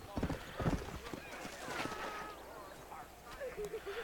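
A horse gallops in the video game Red Dead Redemption, with rhythmic hoofbeats running under someone talking throughout and a brief whinny-like call near the end.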